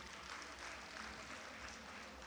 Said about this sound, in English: Let's clap for God Almighty.